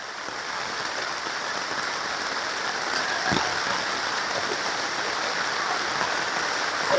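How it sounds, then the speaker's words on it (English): Rain falling on a rural farm in Jamaica, a dense steady hiss of drops on surfaces and foliage, constant and fairly loud throughout, with no talk. "Rain set up on the farm."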